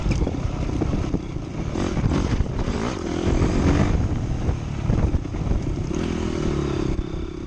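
Dirt bikes race through a hare scramble, engines revving and droning loudly up close with rough, fluctuating throttle and clattering over the terrain.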